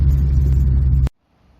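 A 1976 Simca 1000 Rallye 2 engine drones inside the cabin while driving with the window closed, a loud low rumble that stops abruptly after about a second.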